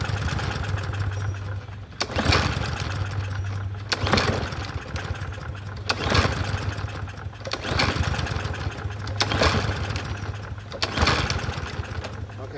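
Troy-Bilt TB110 push lawn mower engine being pull-started repeatedly: five or six rhythmic bursts of cord rattle and cranking sputter, each ending in a pause, with the engine failing to catch and a voice talking between pulls.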